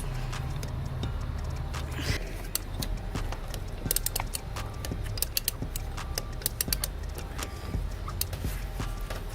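Hand tool clicking and ticking while a bracket is worked loose from the cast metal turbo inlet pipe on a Veloster N engine, giving irregular close metallic ticks and ratchet-like clicks over a steady low hum.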